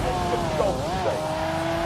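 A Lamborghini races in The Grand Tour video game, its engine roaring steadily with a wavering, pitch-shifting squeal of tires as it corners, with a voice talking over it.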